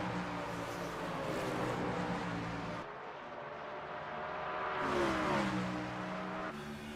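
A NASCAR car in a sim racing game, on track at Mid-Ohio, is heard from onboard downshifting for a tight right-hander: a loud, steady engine drone whose pitch drops through the gears, cut briefly, then rising again.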